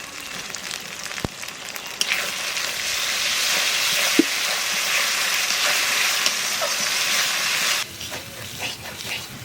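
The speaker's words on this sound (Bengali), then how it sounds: "এইবার দিয়ে দেবো আদা রসুন বাটা পেঁয়াজ বাটা" Ginger-garlic paste and onion paste hit hot oil in a pan and sizzle loudly and steadily, with a sharp clack near the start and the hiss dropping off abruptly toward the end.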